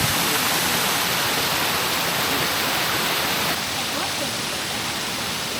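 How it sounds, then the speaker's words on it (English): Shiraito Falls in a small Japanese mountain town pours steadily, a loud, dense, unbroken rush of falling water close by. "The sounds as well, it's just so calming, the water running."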